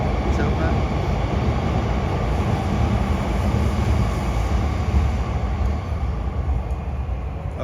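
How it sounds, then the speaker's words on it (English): A Yamanote line train, green and grey-silver, rumbles past on a Tokyo street, a steady broad roar that holds at the same level throughout. "You can see the Yamanote train, the green and grey, silver."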